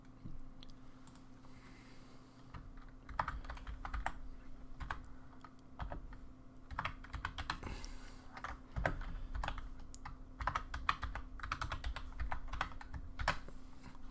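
Rapid clicking of keys on a computer keyboard, irregular bursts of typing close by over a low steady hum.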